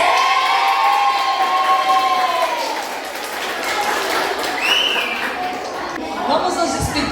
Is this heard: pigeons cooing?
no